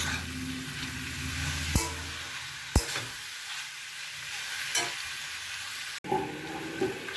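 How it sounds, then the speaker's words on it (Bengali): Vegetables and fenugreek leaves stirred in a pan for methi shaker chochori, with soft frying sizzle and a few scraping clanks of the spoon; no talking. "এবার সবজিগুলোর মধ্যে আমি মেথির শাকগুলো দিয়ে দেব, দিয়ে নাড়াচাড়া করে নেব।"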